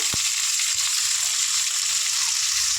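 A large sliced onion frying in hot oil for an egg chop, a steady close hiss and sizzle holding constant throughout with no speech.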